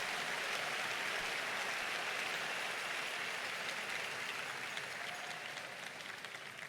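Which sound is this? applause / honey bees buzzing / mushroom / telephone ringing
applause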